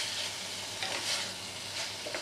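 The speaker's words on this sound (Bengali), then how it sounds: "দেখুন চিকেনটা পুরো মশলার সঙ্গে মেশানো হয়ে গেছে" Chicken with spices and a splash of chicken stock sizzles quietly in a kadai, with soft scraping stirs surfacing now and then over the steady frying hiss.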